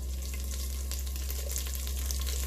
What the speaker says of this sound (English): be careful, there's gonna be some popping going on there